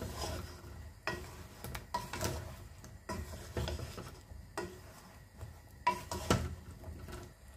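Bottle gourd and mrigal fish being stirred in a metal cooking pot, a spoon scraping and knocking against the sides in irregular bursts, with a faint sizzle underneath and no talking.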